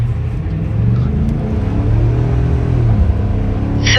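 2024 Ford Super Duty truck with the 7.3L gas engine rated at 430 horsepower accelerating: a loud, steady low engine rumble and drone heard from inside the cab, rising slightly over four seconds.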